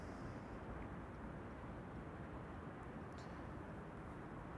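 Airliner taking off from runway 24 (Kaagbaan) at Amsterdam Schiphol, a steady, distant broadband jet roar that holds constant throughout.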